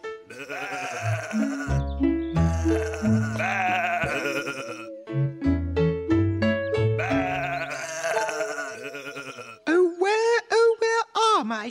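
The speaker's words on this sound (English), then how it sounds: "Oh, lovely sheep." Sheep bleat loudly and close, wavering calls repeating over several seconds, ending in a quick series of short bleats.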